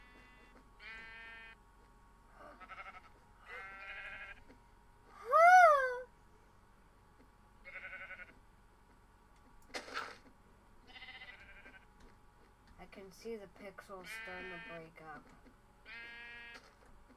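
Minecraft sheep bleat in short, separate calls, with other animal sounds in a world that is falling apart, while someone talks over them.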